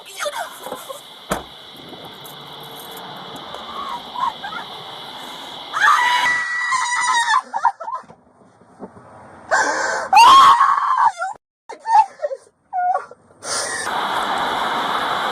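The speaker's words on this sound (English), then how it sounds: "She was screaming." A woman screams in shrill, high-pitched bursts during a high-speed police chase, with gasping, panicked sounds between them and bits of background commotion.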